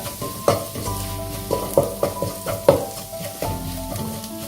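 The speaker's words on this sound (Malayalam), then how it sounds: "ഞാൻ നന്നായി ഒന്ന് മിക്സ് ആക്കുക." Kerala-style beef fry being stirred with coriander powder in a hot pan, a continuous sizzle punctuated by several scraping strokes of a spatula against the metal, close and loud with no talking.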